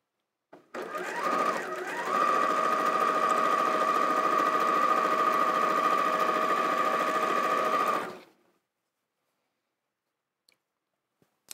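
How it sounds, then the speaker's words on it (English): A sewing machine chain-pieces half square triangles for a quilt block, running in one long, steady, close whir for about seven seconds before slowing to a stop, followed by near silence and a few faint clicks. "I'm going to chain piece all of these in the hope that I've got enough time to finish the block for you"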